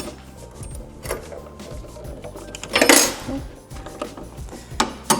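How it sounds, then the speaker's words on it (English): Clicks and metallic fiddling as a clip is pulled off the top of a boiler gas valve, a few sharp taps and scrapes with a louder rattle midway, close and intermittent. "To remove the clip from the top of the gas valve."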